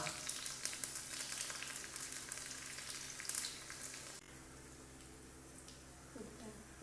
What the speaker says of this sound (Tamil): இப்போ நம்ம கொஞ்சமாக எண்ணெய் சூடு பண்ணி கொஞ்சம் சீரகமும் கொஞ்சம் கடுகும் சேர்த்துக்கலாம்.